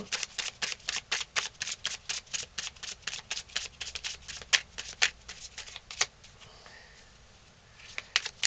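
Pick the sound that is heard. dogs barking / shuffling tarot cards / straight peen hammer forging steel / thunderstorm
shuffling tarot cards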